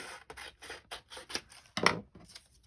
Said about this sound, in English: that's kind of a big pocket, so I'm gonna snip some of that off